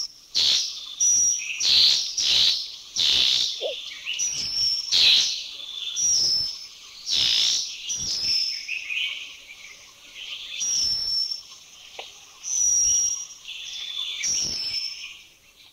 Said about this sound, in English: Number 64, the white-crowned forktail.